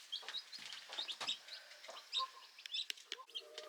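Newly hatched chicks peep in quick, high chirps, many overlapping in a busy, close chorus. The peeping is fairly quiet and carries no talk.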